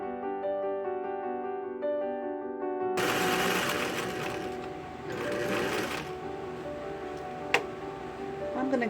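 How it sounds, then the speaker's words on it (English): An old domestic sewing machine running a zigzag stitch on fabric, a steady mechanical whirring chatter that starts abruptly partway through, loud and close, with a sharp click near the end. "Now, this sewing machine is about as old as I am"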